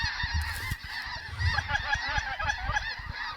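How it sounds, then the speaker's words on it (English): A flock of snow geese honks overhead in flight during a waterfowl hunt in Alberta, a dense, continuous chorus of overlapping calls, loud and fairly close, with low wind or handling rumble underneath. "Bunch of snow geese coming, guys."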